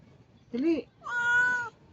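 A hungry cat meows twice up close, with a short rising cry followed by a longer, steadier one. The calls stand out against a quiet room.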